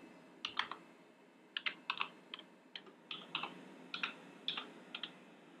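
Computer keyboard keys pressed in short irregular clusters while a directory-change command is entered on a Linux machine set up to run Quake, crisp close clicks over a faint steady hum with no talking.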